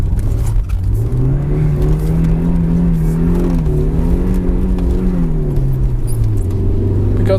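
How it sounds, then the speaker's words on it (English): A 1994 BMW E36 318i with a stock 115 hp four-cylinder and open differential is driven sideways, its engine droning loudly and steadily, pitch rising and holding through the slide before easing back down, with no talking. "there is only one way to start a BMW E36 review, and that is sideways"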